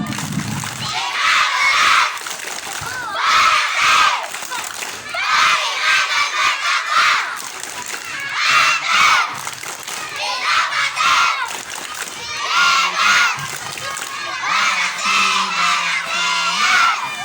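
Children at a school morning gathering chant the tepuk libas clapping routine, their loud group shouts and claps coming in repeated rhythmic bursts with short pauses between, joined by a few adult voices.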